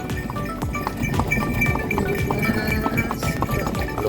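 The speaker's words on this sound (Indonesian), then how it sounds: "Suara tapak kaki kuda terdengar tok tok tok tok." Horse hooves clip-clop on a smooth hard road at Borobudur Temple in a steady trotting rhythm, close and moderately loud, with a faint rumble of movement underneath.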